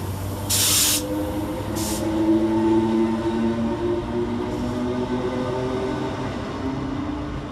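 A Northern class 195 diesel multiple unit arrives at Deansgate station in Manchester, its engine hum and steadily rising tones building nearby, with two sharp bursts of brake air hiss near the start and no talk.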